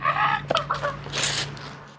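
A chicken clucks in a short run of close, abrupt calls, followed by a brief burst of noise and then quiet.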